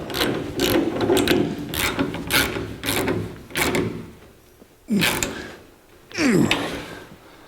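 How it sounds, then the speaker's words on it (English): Ratchet wrench tightening hinge bolts on the rear tire carrier of a 1982 Jeep CJ7, with repeated bursts of fast clicking strokes, close and loud, followed by a few slower single pulls and pauses; no talking. "Now we can tighten these hinge bolts up."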